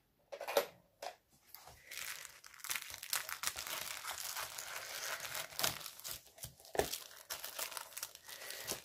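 Paper is crinkled and crushed close up, bursts of crackly rustling with short pauses, fairly quiet overall.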